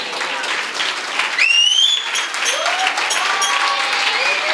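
A church congregation breaks into sustained applause and clapping in praise of God, a steady dense wash with cheers, and a voice rising above it.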